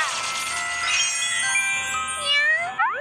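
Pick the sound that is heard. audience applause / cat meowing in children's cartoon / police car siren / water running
cat meowing in children's cartoon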